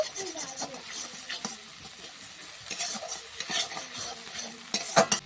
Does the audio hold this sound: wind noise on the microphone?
no